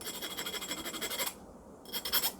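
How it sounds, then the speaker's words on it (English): A metal file rasps along the edge of a sharp metal crown band in quick, close strokes, pausing briefly before a few more scrapes. "So use a metal file,"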